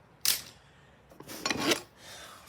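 A slightly rusty hand file from a plumber's toolbag rasps in two close strokes, a short sharp scrape followed by a longer rubbing pass, with quiet gaps around them.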